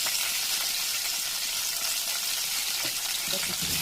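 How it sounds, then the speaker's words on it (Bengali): Potatoes and browned onions fry in a pan while being stirred for a breakfast dish, giving a loud, steady, close sizzle with faint scraping of the spoon and no talk. "আলুটা দিয়ে ভালো করে নেড়ে নিই"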